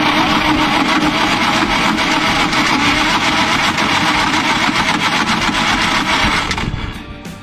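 Old bulldozer engine that had water in it and sat about fifteen years, running loud and steady with a dense rumbling clatter throughout, then dropping off near the end.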